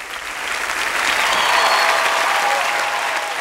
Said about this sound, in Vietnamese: Giới trẻ hay vỗ tay cho cải lương một lần nữa coi nào.